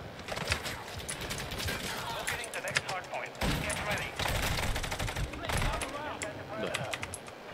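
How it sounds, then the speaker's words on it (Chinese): Shotgun blasts ring out in Call of Duty: Modern Warfare II, a fast string of short gunfire bursts with in-game clatter and effects, moderately loud and busy throughout. "这个散弹枪的距离就真的短很多。"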